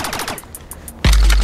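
Automatic gunfire from a weapon in the virtual reality game Rec Room, played on Oculus Quest, erupts loud and sustained in the last third after a stretch of quieter game sounds and rapid clicks.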